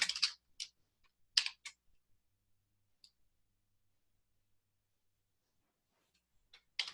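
Someone types C# code on a computer keyboard: short clusters of quiet, crisp key clicks arrive in bursts separated by long silent pauses, close and alone without any voice.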